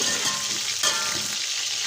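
Chicken pieces for a pulao fry in a pan with a steady, close sizzle and a brief crackling burst near the middle, no voices over it.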